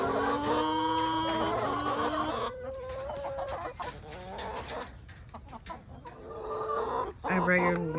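Chickens cluck and squawk busily at the coop door, waiting to be let out, close and continuous with a few louder calls near the end.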